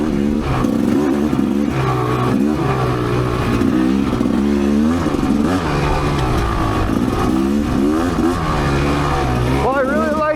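A Rieju MRPro 300 dirt bike runs steadily on a hilly trail loop, its engine loud and close with rising and falling revs and rapid gear-driven pitch sweeps near the end.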